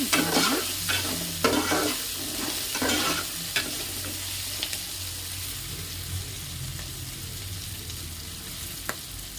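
Salted potato pieces fry and are stirred in a pan, with loud scraping stirs and crackling sizzle in the first few seconds, then a quieter steady sizzle with a few faint taps.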